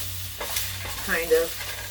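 Ingredients stir-frying in a wok over a high flame, with a loud continuous sizzle and a few scraping stirs, no talk.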